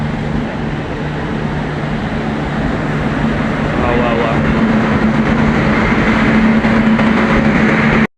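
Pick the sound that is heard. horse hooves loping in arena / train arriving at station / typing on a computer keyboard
train arriving at station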